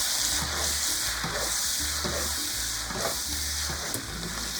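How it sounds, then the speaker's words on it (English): Noodles and cooked vegetables stir-frying in sesame oil over heat, a steady loud sizzle with a constant hiss and repeated low scraping and tossing strokes of the utensil in the pan. "Now I'm going to add the noodles into the vegetable that we cooked already and turn on the heat"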